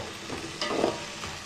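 Mixed vegetables and brinjal sautéing in a pan for sambar, a dense close sizzle with a soft stirring scrape in the middle, no talking.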